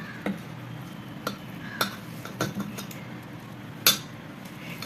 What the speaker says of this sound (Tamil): சைட்லேருந்து இப்படி கிண்டி விடுங்க